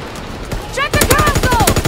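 Rapid automatic gunfire from a video game battle erupts after a brief lull, a dense rattling burst of shots continuing to the end, with a voice calling out over it.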